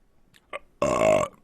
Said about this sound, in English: Belch to end it.